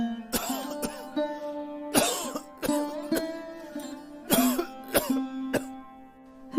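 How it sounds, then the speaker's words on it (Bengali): An older man, a father in a Bengali cartoon drama, gives a series of harsh, spaced-out coughs and throat clears, close and fairly loud over a faint tonal background. "বাবার কাশি।"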